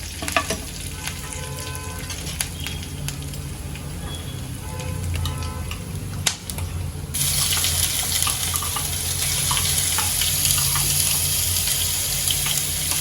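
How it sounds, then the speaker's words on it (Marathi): Whole spices and curry leaves frying in oil make a constant sizzle, with a few scattered clicks and stirring sounds early on; the hiss grows brighter and louder about halfway through and then holds steady. "आपण जे खडे मसाले आणि कढीपत्ता घेतलेला ते टाकून घेते या सर्वांना एकत्र मी फ्राय करून घेते"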